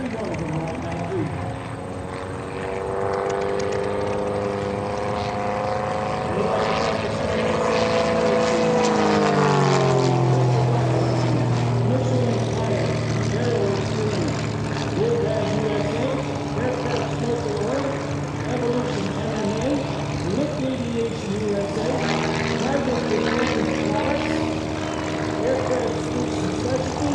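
A 230-horsepower propeller airplane engine runs at full power, a loud sustained drone with steady harmonics that shifts pitch as the aircraft passes, continuous throughout.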